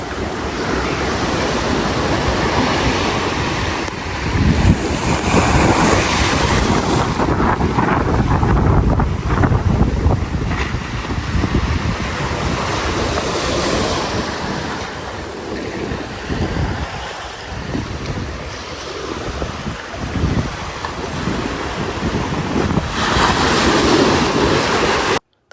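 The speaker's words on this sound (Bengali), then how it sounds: "ঢেউয়ের সাউন্ড কি গড়গড় করতেছে সাউন্ডে।" Ocean waves surging and breaking on Sesimbra beach, a loud continuous rumbling roar with swelling surges, heavy wind buffeting the microphone throughout, and no voices.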